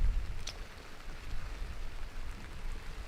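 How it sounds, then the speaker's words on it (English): Heavy rain pouring down at a cricket ground during a county championship match between Sussex and Leicestershire: a steady, dense hiss of rainfall with low rumbling wind underneath, continuous and moderately loud, no talk. "it's absolutely pouring down now"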